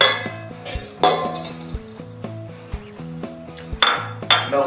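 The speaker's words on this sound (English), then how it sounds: "beat together all your wet" Eggs, melted butter and milk being beaten in a bowl for cornbread: sharp, scattered clinks and knocks of utensil against bowl over a faint tonal background.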